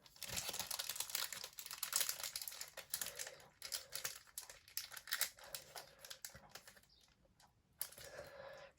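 Crinkly plastic wrapper of an Animal Crossing amiibo card pack being torn and fought open, with bursts of close crumpling and ripping that pause and resume, no talking.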